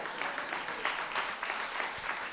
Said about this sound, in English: Somebody clap if that makes sense.